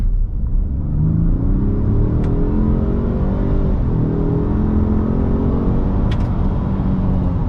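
A 2021 Ford F-150 PowerBoost hybrid pickup accelerates hard, heard from inside with a loud, steady engine drone whose pitch climbs through gear changes, along with road rumble.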